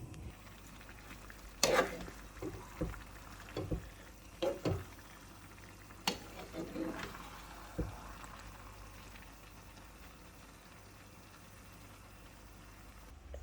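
Nigerian local rice steaming in a covered pot: a faint, steady low simmer with a few sharp clinks and knocks near the start, then a quiet, even bubbling hush.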